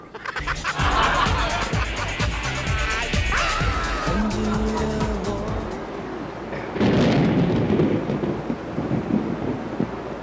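Heavy rain pours steadily while deep thunder rumbles and cracks, and voices talk over the storm.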